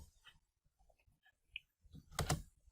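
Keys tapped on a computer keyboard while typing a name into a spreadsheet cell, sparse soft clicks followed by a quick loud burst of keystrokes, close and alone.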